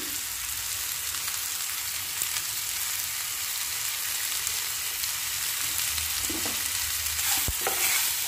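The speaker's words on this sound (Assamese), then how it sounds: "আকৌ এনেদৰে অলপমান লৰাই লৈছোঁ মই" Sabudana khichdi sizzles in a pan while a spoon stirs through it, a constant frying hiss with occasional scraping and knocks against the pan near the end.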